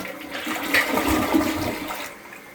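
A household toilet flushing with its tank set to a high water level, a close, loud rushing gush and swirl of water running steadily for a couple of seconds before easing off.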